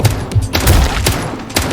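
Rapid-fire gun shooting zombies in a mobile advert game: a short, loud string of quick, sharp shots in close succession, with no talking.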